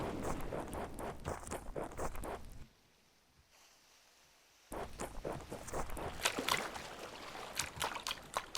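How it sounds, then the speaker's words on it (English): Footsteps splashing through shallow water in the Among Us video game, a quick run of wet, sloshing steps that stops for about two seconds of near silence, then resumes with louder splashy steps. "Oh, they do have water footsteps."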